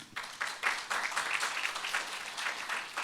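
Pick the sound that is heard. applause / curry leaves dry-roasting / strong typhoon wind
applause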